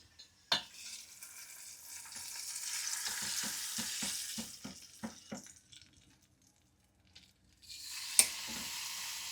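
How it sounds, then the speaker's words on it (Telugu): Hot tempering for a buttermilk stew with turmeric is tipped into the pot, giving a sharp crackling hiss, then a run of soft stirring taps, a quiet gap, and a final short burst of sizzling. "ఈ తాలింపు ఇందులో యాడ్ చేసేస్తున్నాను"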